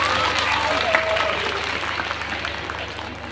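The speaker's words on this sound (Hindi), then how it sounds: "नेताजी का स्वागत जोरदार तालियों के साथ।" A crowd claps loudly to welcome a political leader to the stage at a Hindi-language public gathering, dense applause heard through a loudspeaker system with a steady hum, fading a little toward the end.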